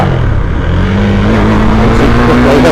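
A KTM Duke 390 BS4 motorcycle accelerates hard in first gear, its engine note climbing steadily from a low growl to a loud, rising rev. The sound is close and continuous, with no voices.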